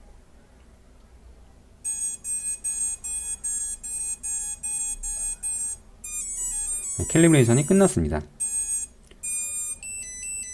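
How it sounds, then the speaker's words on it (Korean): An STM32-based homemade drone's buzzer sounds during calibration mode with a quick series of evenly spaced high beeps, then varied beep patterns, and a recorded voice speaks briefly partway through. "지금 부저 소리가 캘리브레이션 모드로 들어갔다는 걸 알려준 거고"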